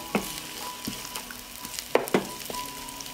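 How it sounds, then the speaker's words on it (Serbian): Chopped bacon sizzling in a pan, a steady hiss broken by several sharp clacks of a utensil against the pan, close up, no talking. "Dodajem seckanu slaninicu i nju ću propržiti."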